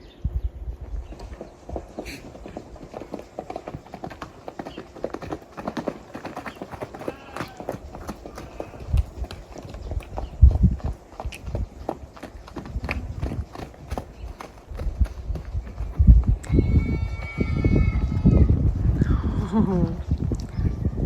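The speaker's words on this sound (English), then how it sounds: "And they have horses." Horses on a farm along a hiking trail in New Mexico walk with irregular hoof clops on the ground, close by and mixed with rustling, while someone talks and coos to the animals.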